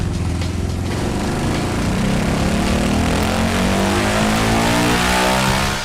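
A Yamaha Raptor 700 ATV engine with a KMS Megacycle X4 cam runs hard on a dyno, a loud, steady, buzzing drone that holds high revs throughout without a break.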